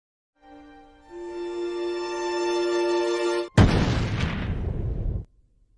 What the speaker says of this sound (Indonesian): akhirnya kembang api pun berhasil dinyalakan